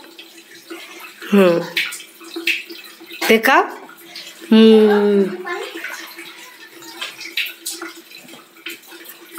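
Tap water runs steadily in the background while a child rinses his mouth at home, with splashing and spitting bursts and someone talking over it throughout.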